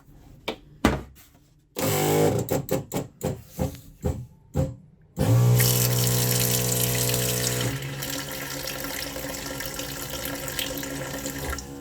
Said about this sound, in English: I might have to fill the tank up